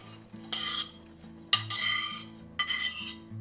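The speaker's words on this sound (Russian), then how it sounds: "Разделанное мясо отправляю в кастрюлю." Shredded cooked meat drops into a pot of soup in a home kitchen, landing in three distinct soft splashing thumps with a brief clink of metal at each.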